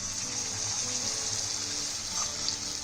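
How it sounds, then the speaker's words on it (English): Coated egg halves dropped into hot oil for egg lollipops fry with a steady, continuous hiss and bubbling crackle, close and fairly loud, with no voices. "you drop this in hot oil"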